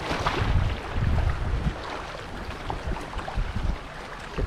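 A small outrigger boat sits on shallow water at low tide, with wind buffeting the microphone and soft lapping of water against the hull in a brief outdoor stretch.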